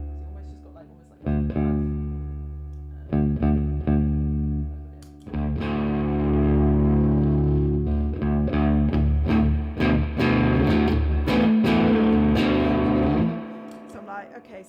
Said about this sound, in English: that's usually my only distortion pedal that I use